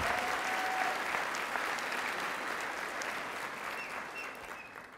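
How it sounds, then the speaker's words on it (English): Applause from a graduation audience at an El Centro de la Raza ceremony fills the space with dense, continuous clapping that slowly tapers, moderately distant and without talk. "So let's give them a big round of applause."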